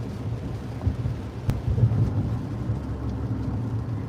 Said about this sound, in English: Nice rainy day out today